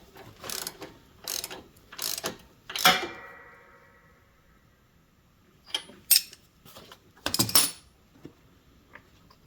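Bolts being tightened down on a Kawasaki FS600V engine of an Encore Rage mower, giving bursts of close metallic ratchet clicking separated by short pauses, with no talking.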